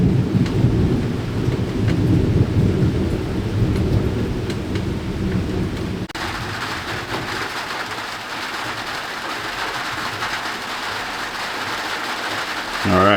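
Heavy tropical rain pours steadily with deep rumbling thunder during a summer storm in Ohio, the low roll strongest at first, then easing to a hissing downpour.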